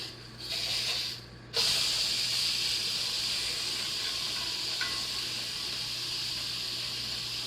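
A fried onion burger sizzles loudly on a cast iron surface after being flipped, a brief dip then a steady, bright hissing fry that carries on evenly, no voices over it.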